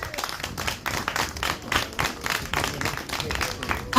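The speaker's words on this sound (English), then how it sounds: "Give JACRA a clap, please." An audience at a formal address claps for a group in a dense, steady patter of many hands, moderately close and continuing throughout with faint voices mixed in.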